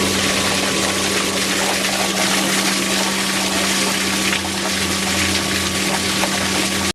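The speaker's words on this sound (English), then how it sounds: "let's go ahead and turn the pump back on and get started" An Intex sand filter pool pump runs at close range with a loud, steady motor hum and rushing water, constant throughout and alone, ending in an abrupt click.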